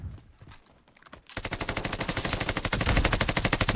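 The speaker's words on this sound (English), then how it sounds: "They're shooting me. I'm getting shot." Rapid automatic gunfire erupts in a video game, a loud, fast, evenly spaced stream of shots that follows a brief quieter pause.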